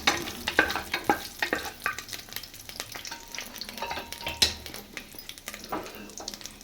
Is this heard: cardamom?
yes